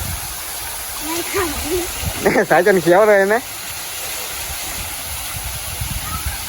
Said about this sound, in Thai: ตรงนี้ก็จะเป็นพวกน้ำตกแล้วก็น้ำพุ